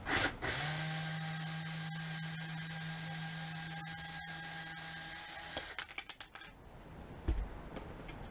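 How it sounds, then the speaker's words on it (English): A small power driver hums steadily for several seconds while backing out screws, then stops, followed by a few light rattles and clicks of the loosened hardware, close and fairly quiet. "So I'm gonna take these three screws out so I can get better access to the hole."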